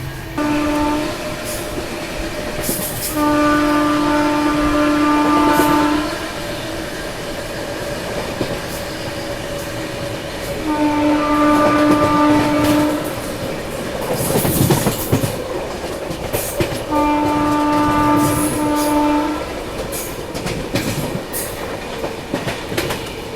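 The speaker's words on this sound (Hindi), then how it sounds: "यहाँ हमारी ट्रेन रानी कमलापति रेलवे स्टेशन स्किप कर रही है" An express train rolls through Rani Kamlapati railway station without stopping, with a loud rumbling roar and clattering wheels, while a steady warning tone sounds in several repeated bursts over the passing cars.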